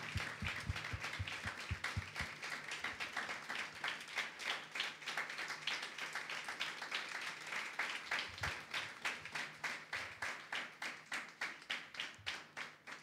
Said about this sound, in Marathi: म्हणून देवाच्या गौरवासाठी एकदा टाळ्या वाजूयात आणि प्रभूला धन्यवाद देऊयात